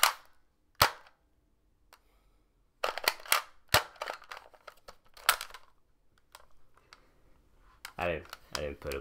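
Gunshots from The Outer Worlds, sharp isolated cracks followed by a few quicker clustered shots with short tails, then a brief burst of voice at the end.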